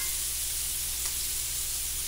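Hamburger steak patties brown in a pan with a constant close, loud sizzle, an even frying hiss that holds steady throughout with no talk.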